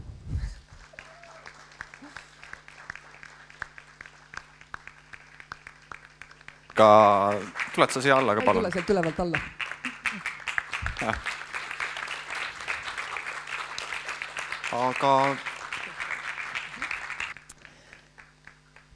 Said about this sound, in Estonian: palun iga nime järel aplausi